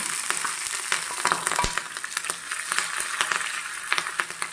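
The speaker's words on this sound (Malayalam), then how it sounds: "ഇനി ചെറുതായി അരിഞ്ഞു വെച്ച പച്ചമുളക് ഇതിലേക്കിട്ട് വഴറ്റിയെടുക്കണം." Green chillies sautéing in hot oil with mustard seeds and curry leaves for ginger pachadi, giving a steady close sizzle broken by frequent sharp pops and crackles, with no voices.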